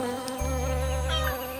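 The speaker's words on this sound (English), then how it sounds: "The bees hummed as they flew from flower to flower, sipping their heavenly nectar." Buzzing insects fly among flowers, their steady, close drone holding over a tonal background with a brief deeper hum in the middle.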